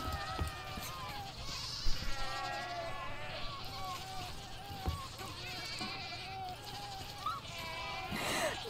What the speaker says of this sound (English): So many goats.